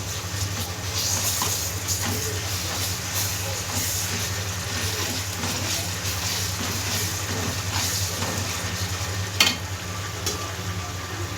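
Onions, tomatoes and ginger garlic paste sizzling in a pan, a dense continuous frying hiss with occasional small pops and one sharper clink near the end, no talk.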